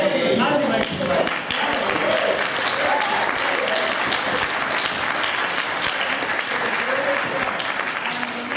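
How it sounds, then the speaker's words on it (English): Audience applause at a Raspberry Pi birthday party event, steady and sustained crowd clapping that fills the room with a murmur of voices underneath. "Let's give a round of applause."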